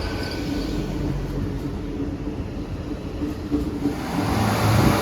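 Chiltern Railway class 165 diesel unit 165019 pulling out of Oxford for London Marylebone gives a continuous engine drone and rolling rumble that builds toward the end as it picks up, with a faint rhythmic clatter.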